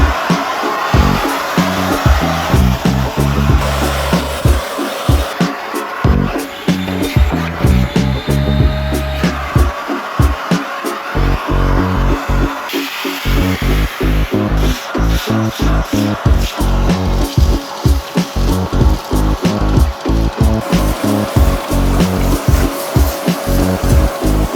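A STIHL SE 33 wet and dry vacuum cleaner with blower runs its motor loudly and steadily at close range, a continuous roar with rhythmic pulsing fluctuations throughout and no talk over it.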